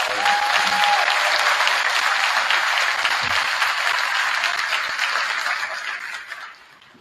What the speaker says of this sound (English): let's get a big round of applause for our